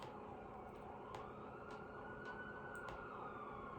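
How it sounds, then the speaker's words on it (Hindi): A police car siren wails steadily in the distance, its rising tone lingering across the whole stretch over a busy background hum. "पुलिस की गाड़ी की आवाज आ रही है बहुत ज्यादा"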